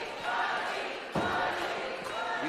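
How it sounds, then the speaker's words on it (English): An audience at a live wrestling event cheers and roars in a steady broad wash, swelling suddenly after a sharp impact midway, with a commentator's voice over the crowd. "You can hear our audience cheer along"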